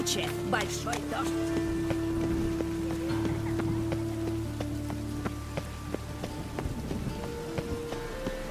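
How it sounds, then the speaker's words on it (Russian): Steady heavy rain in The Witcher 3 hisses over the whole scene, continuous and fairly loud, with a low droning tone and scattered footsteps or hoof-like thuds underneath. "тучи, большой дождь."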